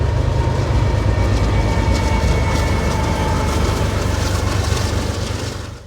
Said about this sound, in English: So you notice the lead engine on that train was a BNSF engine